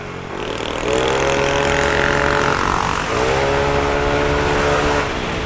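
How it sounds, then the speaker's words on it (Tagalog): A small motor scooter's exhaust revs hard and loud nearby on a wet road, its buzzing pitch climbing, dipping briefly, then climbing again. "Ganda ng tunog ng tambucho ko ngayon"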